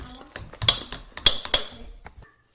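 Whipped topping and peanut butter are stirred in a bowl with a spoon, giving a quick run of clinks and scrapes against the dish in uneven bursts, close by, fading to silence at the end.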